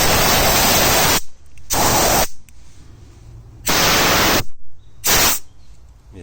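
Four loud, hissing blasts of compressed air from a POLLOR 24L oil-free low-noise air compressor's spray gun, blowing dust away. The bursts run about one second each, separated by quiet pauses.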